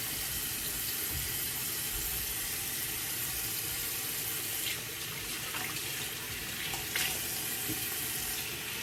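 A bathroom tap runs steadily while a skin brush is wetted, a broad continuous rush of water at close range with a slight change in splash partway through, and no one speaking.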